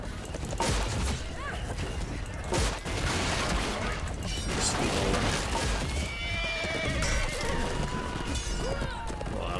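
Horse cavalry in a video game neighing amid the clatter of hooves and combat crashes, a dense and continuous loud din with whinnies rising near the end, talk faintly mixed in.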